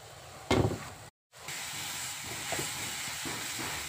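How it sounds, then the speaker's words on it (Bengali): Bottle gourd leaves boiling in a pot with green chillies, a few garlic cloves and chopped onion. A steady bubbling, hissing simmer runs throughout, with a brief louder splash and a short gap near the start. "এবার লাউ পাতাগুলোকে সিদ্ধ করে নেব"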